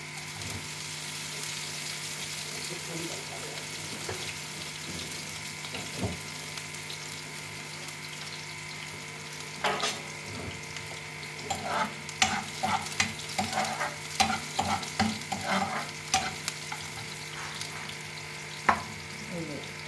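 Onion frying in a pan in a home kitchen while a spatula stirs it: a continuous sizzle runs throughout, broken by clusters of sharp scraping and clinking strokes that grow busier in the second half.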